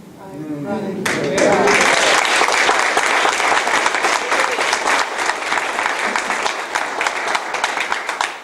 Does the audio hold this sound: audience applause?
yes